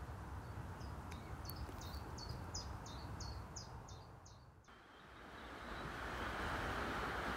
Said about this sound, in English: You may now be able to hear the rushing water of the River Aire in the background.